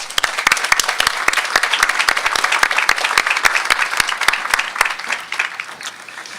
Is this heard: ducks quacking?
no